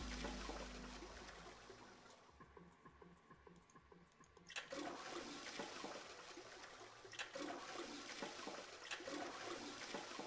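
A toilet flushes in the video game 999, a loud rushing gush of water that drops away briefly, then returns as a sustained swirling wash and trickle with no talk over it.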